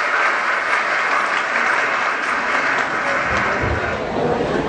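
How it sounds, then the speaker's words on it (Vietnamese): A reunion hall of former students of Phan Bội Châu school in Phan Thiết bursts into sustained, loud applause to welcome their old teachers, an even roar of many hands with scattered crowd noise beneath. "chúng ta dành một tràng vỗ tay thật lớn và thật nồng nhiệt để chào đón quý thầy quý cô"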